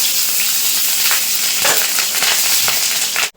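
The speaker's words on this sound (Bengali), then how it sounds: "এখন ফোড়ন করে নেবো ফোড়নে দিয়ে দেবো হচ্ছে রাঁধুনি ফোড়ন আর দিয়ে দেবো গোটা জিরে" Radhuni seeds, whole cumin and slit green chillies crackle in hot oil for a fish curry with helencha greens, giving a loud, steady sizzle with sharper spits and pops throughout, no voices.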